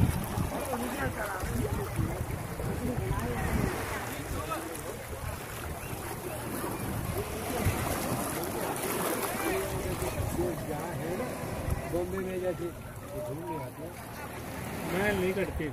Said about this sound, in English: Arabian Sea.